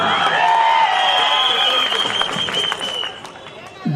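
Applause from a political rally audience: a dense, steady wash of clapping from many hands that holds strong for about three seconds, then thins and fades near the end.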